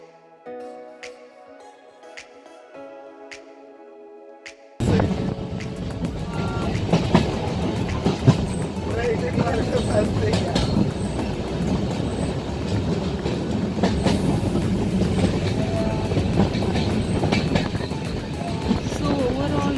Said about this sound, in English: We boarded to our train,